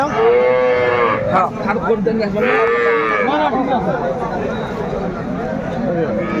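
Dairy cows and calves moo loudly and repeatedly nearby, long drawn-out calls over a busy background of voices and livestock noise at Aftabganj market, Dinajpur.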